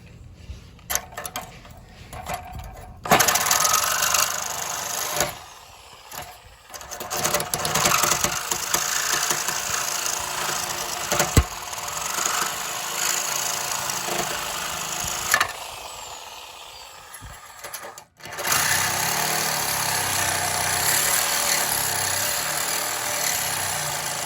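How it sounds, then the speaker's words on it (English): A saw fitted with a fresh blade cuts through parts of a 1998 double jet ski trailer, giving a harsh buzzing, grinding drone that runs in long bursts broken by short pauses. "I got a nice fresh blade here, and I'm just gonna try to cut through them."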